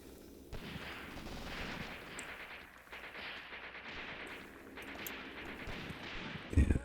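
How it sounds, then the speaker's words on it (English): Sporadic gunfire crackles through a Graviteam Tactics battle, dense and distant-sounding shots over a rumbling backdrop, with a heavier burst near the end. "Stop shooting the ground."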